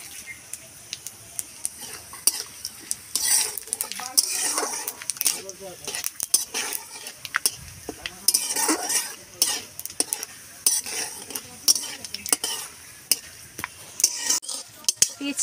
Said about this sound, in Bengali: তেজপাতা আর 5 ফোড়ন আমার ভাজা হয়ে গেছে